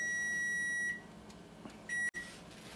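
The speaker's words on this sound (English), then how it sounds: "my timer's going off" Electronic kitchen timer beeping in a home kitchen during steak and boiled shrimp cooking, a steady high tone that stops, pauses, then sounds again briefly before a click cuts it off.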